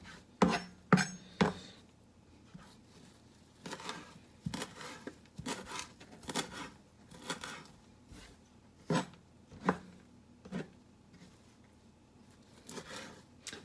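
A knife chopping fresh herbs on a cutting board for shrimp ceviche, heard as irregular, close, faint taps and scrapes, spaced unevenly and alone, with quiet pauses between cuts.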